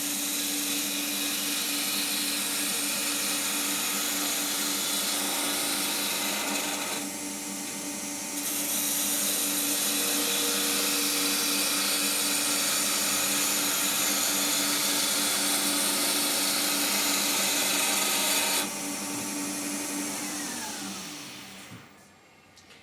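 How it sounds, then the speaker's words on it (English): Steady loud whirring hiss of a wood lathe as an Ashley Iles All Rounder turning tool takes a smooth planing cut on the spinning workpiece, continuous for about twenty seconds with a brief dip before winding down. "with a smooth edge you can also use it for a planing cut"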